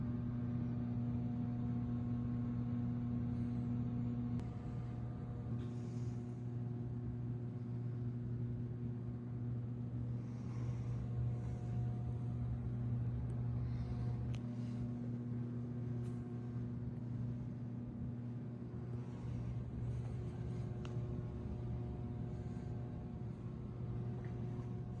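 Nissan 300ZX Z31 idling steadily at a state referee inspection, a low constant engine drone with faint background clatter and no one talking.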